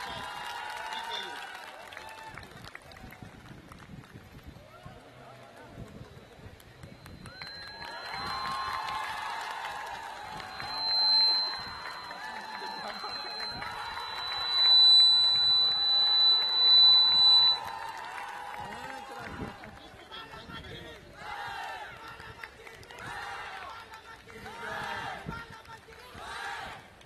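Nepali students in a university annual day audience break into applause and cheering, a broad crowd roar that swells in the middle and peaks later, mixed with talk from a speaker over the hall.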